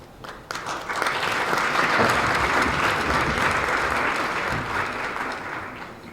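An audience at a summit in the Eastern Cape claps to welcome a speaker, a thick, sustained round of applause that swells quickly, holds steady and begins to fade near the end.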